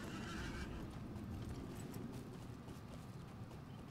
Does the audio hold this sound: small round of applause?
no